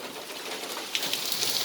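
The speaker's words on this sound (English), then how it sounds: "Hear the rain?" Hurricane rain pours down beside a garage, a steady hissing wash of heavy downpour that grows slightly louder and splashier toward the end, with no talking.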